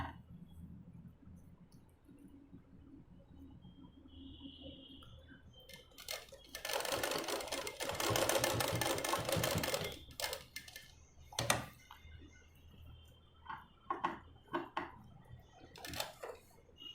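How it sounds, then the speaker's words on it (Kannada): A sewing machine stitches a blouse in short bursts, a whirring run of a few seconds in the middle followed by quick stop-start taps and clicks, close and fairly quiet. "ಈ ಮೂಲೆ ಬಂದಾಗ ನೋಡ್ಕೊಂಡು ಸ್ಟಿಚ್ ಮಾಡಿ"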